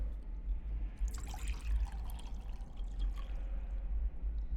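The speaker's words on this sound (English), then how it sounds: "I've collected some water in the pot." Water trickling and pouring into a pot in the game The Excavation of Hob's Barrow, a faint splashing fill over a low rumbling background.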